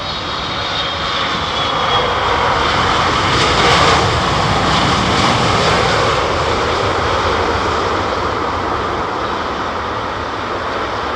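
Jet airliner engines idle at Heathrow Airport, producing a continuous broadband roar with a high whine that swells slightly midway, then eases, with no voices.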